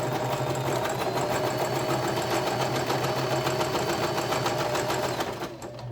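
A sewing machine stitches fabric with a fast, even mechanical chatter and motor hum, running steadily and close for several seconds before easing off at the end; no talking.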